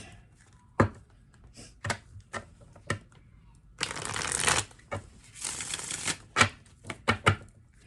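Tarot cards are shuffled by hand for a pick-a-card reading. Sharp card taps and riffles land close at an irregular rhythm, with two longer bursts of riffling in the middle.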